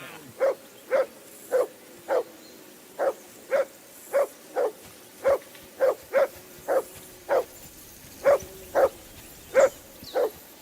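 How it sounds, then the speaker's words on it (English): A dog in the video game Kingdom Come: Deliverance II barks steadily and repeatedly, about two barks a second at an even rhythm, moderately distant, with no talking. "I assume you can hear that damn dog of yours barking."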